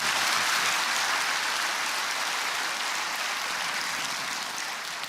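A church congregation claps steadily in encouragement for members who gave testimony. The applause is dense and evenly loud, like hiss, and fades slightly over five seconds with no talk over it.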